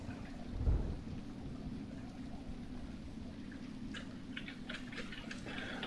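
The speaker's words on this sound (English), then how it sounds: "It's apparently raining." Faint steady rain hisses in the background in the game Project 1999 (EverQuest), with a soft low rumble early on, and light ticking patter toward the end.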